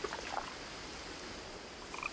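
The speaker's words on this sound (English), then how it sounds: "As soon as I go away, this frog starts croaking again." A frog croaks in What Remains of Edith Finch, a few scattered short croaks at the start and end over a steady hiss of background ambience, fairly faint.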